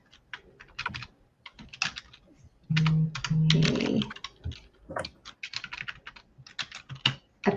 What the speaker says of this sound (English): Apparently typing right now is a little difficult for me.